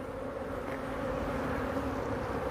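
Dense, continuous buzzing of many honeybees at an apiary hive, close and steady throughout.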